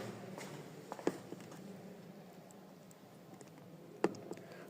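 Keys pressed on the keypad of an Arduino-based biometric security vault, heard as two sharp, faint clicks spaced a few seconds apart over a quiet room hum, with no talking.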